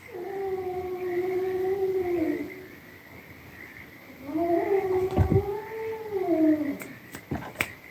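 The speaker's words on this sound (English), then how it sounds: "Cats." Two drawn-out cat yowls, one after the other with a short pause between them, rising and falling in pitch. Both are fairly close, and faint knocks and rustles follow.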